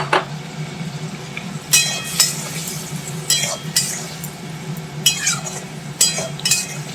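Potatoes and squash sautéing with spices in a pan, a low steady sizzle punctuated by repeated sharp scraping and clinking strokes of a spatula against the pan, close and rhythmic.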